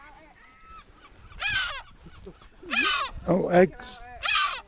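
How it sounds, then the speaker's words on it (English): Aggressive seagulls calling from a nesting colony on an island, several harsh, wailing calls in bursts overhead and close by, with people talking in between. "Having to be led through the seagull colony, as they're quite aggressive."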